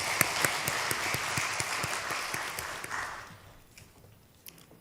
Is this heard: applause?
yes